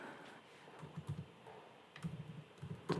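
Typing on a computer keyboard, soft close-up key clicks in irregular short bursts at a low level, with no voices.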